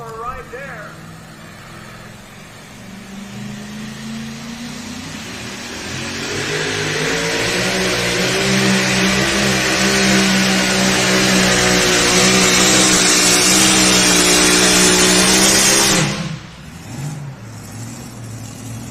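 A pulling truck's engine roars at a county fair truck pull. The revs climb and hold a loud, sustained, strained pitch for many seconds before cutting off abruptly near the end, with voices faintly present.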